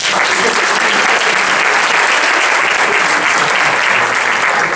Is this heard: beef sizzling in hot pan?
no